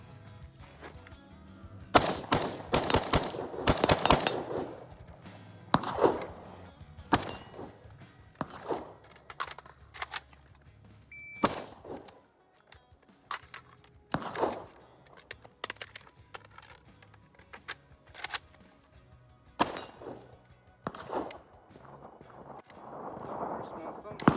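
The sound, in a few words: PSA AK74 rifle firing with erratic ejection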